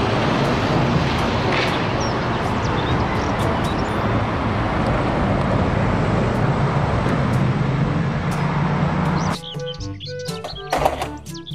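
A double-decker bus rumbles steadily nearby for several seconds, with road noise and faint bird chirps, then cuts off abruptly into quieter scattered clatter.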